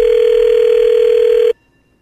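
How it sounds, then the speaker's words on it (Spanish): A steady telephone dial tone holds loud and unbroken for about a second and a half as a call is placed, then cuts off abruptly into silence. "Mario, ahí estamos marcando, no haga ruido tú, carnal"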